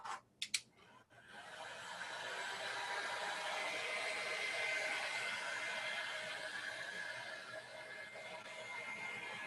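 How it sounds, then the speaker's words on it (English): A heat gun whirs steadily at close range while drying a painted canvas, a continuous, fairly quiet airy hiss after a few short knocks at the start. "So you'll hear the whir of my heat gun while you are continuing to paint."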